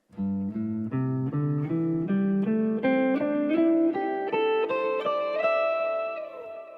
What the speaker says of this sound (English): Playing the same 5 notes from your minor pentatonic scale now in a diagonal shape